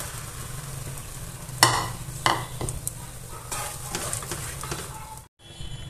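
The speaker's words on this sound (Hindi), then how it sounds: "इसका पेस्ट जब तक गाढ़ा ना हो जाए तब तक भूनेंगे।" Onion and chana dal paste being stirred and fried in a pan for a chana dal sabji, with steady sizzling, a few sharp spoon scrapes and clanks, and a brief drop to near silence at the end.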